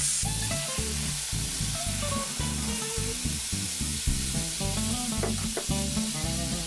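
Stock poured into a hot pan with sliced, seasoned liver sets off a steady, close sizzle and frying hiss that runs throughout, with some musical tones layered over it.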